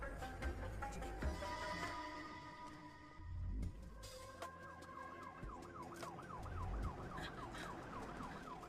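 An ambulance siren wails through a tense film scene, its rising and falling tone sweeping repeatedly over traffic and street noise, fairly prominent and continuous, with faint voices in the background.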